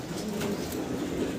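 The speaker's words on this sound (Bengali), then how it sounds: "খুব সুন্দর এক পেয়ার শ্যালো কবুতর দেখাচ্ছে, খুব চঞ্চল এবং সুস্থ স্বাভাবিক আছে।" A pair of shallow pigeons coos softly and continuously, close by amid a busy, noisy background.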